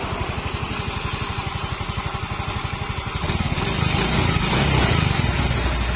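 A Yamaha Mio 125 scooter engine, freshly repaired after a rusted magneto failure, runs close by with a fast, steady idle putter that rises into a louder, rougher rev partway through.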